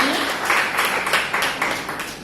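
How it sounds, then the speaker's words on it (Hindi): An audience at a hospital meditation event claps together in a dense, sustained round of applause that pulses steadily throughout the short stretch. "एक बार तीनों के लिए तालियां बजा लीजिए।"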